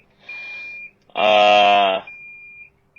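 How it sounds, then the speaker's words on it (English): A loud electronic car reversing warning beep sounds in short repeated pulses, close by, with a brief spoken word at the start. "the car wants you to know you're about to go backwards, and so the beep plays"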